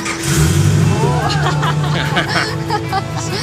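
A Chevrolet Camaro engine starts and runs with rising, revving tones, loud and close, in a custom car shop while people murmur and talk in the background.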